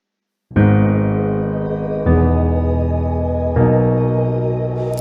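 Piano and synth pads play together in a music track: full, sustained chords that change three times, each new chord struck and then held warmly across the low and middle range.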